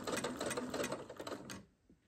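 A sewing machine stitches fabric for shirring at a steady rapid rate, running close and clear for about a second and a half before stopping, leaving near silence.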